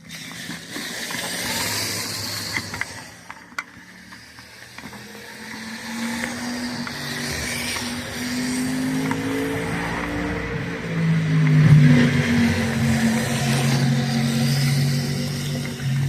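A small K'NEX RC truck with an axle-mounted steering servo drives about, its electric motor whirring and rising in pitch, with ratcheting plastic clicks and rattles, close and moderately loud.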